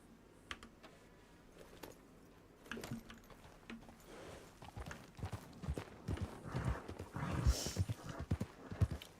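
Horse hooves clip-clop in the game RedM, irregular thuds and knocks that start sparse and grow denser and louder, mixed with keyboard tapping.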